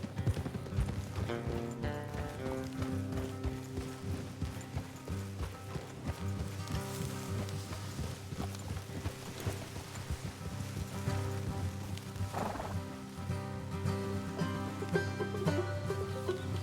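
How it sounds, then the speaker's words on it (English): Horses in the Red Dead Redemption video game clop steadily along a road at a trot, hoofbeats continuous and fairly close over a tonal in-game background. "Let's leave the horses here and go the rest on foot."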